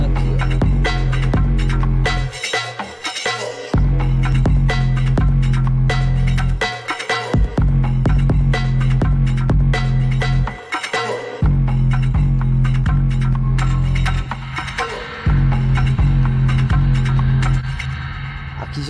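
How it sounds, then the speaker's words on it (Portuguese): A buzz effect from the UJAM Finisher Flux plugin processes a drum loop, giving loud, dense, throbbing beats with a gritty buzzing texture and brief gaps between phrases, with no talking. "agora eu tenho um buzz aqui"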